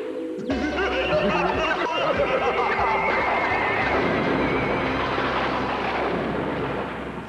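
A sci-fi UFO landing effect for a light show, a loud sustained whooshing, warbling electronic roar that swells in and holds, then slowly fades at the end.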